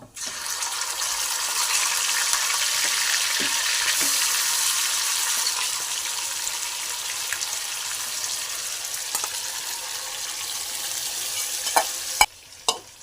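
Boiled eggs, liver and kandanalu fry in a pan with curry leaves, a steady loud sizzle with stirring throughout and a few sharp clinks near the end, no talking.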